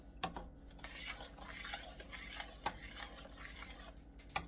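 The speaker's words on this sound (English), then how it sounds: "Stir that up." Okra, vegetable, shrimp and chicken stew is stirred in a pot with a spoon. The scraping is soft and close, with several sharp clinks against the pot's side.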